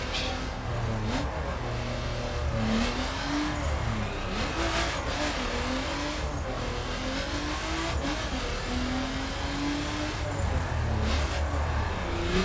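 A car engine revs and surges in The Crew while drifting, with pitch rising and falling through gear shifts and tires squealing, loud and steady throughout.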